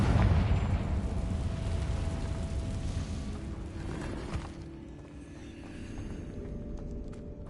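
Spell blasts from Bombarda and Confringo in Hogwarts Legacy rumble through a cave, a loud broad roar that slowly fades into a quieter echoing tail.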